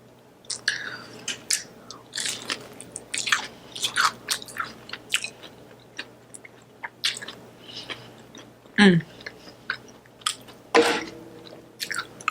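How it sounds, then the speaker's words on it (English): Crunchy, wet chewing and biting on king crab knuckle from a flamin' hot seafood boil, close up, in irregular bursts of crunches and squishes with a few quiet gaps and no talking. "This is the knuckle of the king crab."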